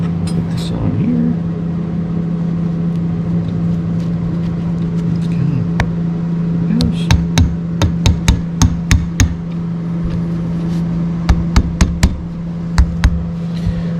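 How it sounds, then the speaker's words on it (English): Screwdriver tapping steering coupler parts into place on a Mopar steering coupler, a run of sharp metallic taps in quick bursts, loud and close, over a steady low hum. "Get a screwdriver and tap these down all the way around"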